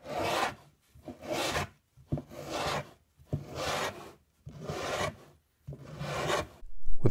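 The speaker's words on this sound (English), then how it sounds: "quickly rub it down with a block" A wooden block rubs plywood edge banding down onto a bent plywood workpiece in about seven brisk back-and-forth strokes, each a close, scratchy swish separated by short pauses, with no talking.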